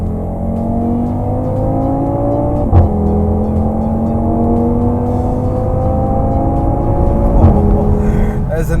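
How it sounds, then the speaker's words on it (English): The exhaust of a 2018 Audi TT RS drones loudly and continuously under acceleration, rising in pitch, with two distinct gear changes marked by sharp cracks before the engine note climbs again. "there's a nice sound that the exhaust makes when the car changes gear"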